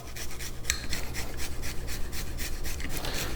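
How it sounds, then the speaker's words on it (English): A garlic clove grated on a fine microplane, producing a close, steady rhythm of quick rasping strokes that repeat evenly for a few seconds. "1 clove of garlic. I'm using a fine microplane for this one."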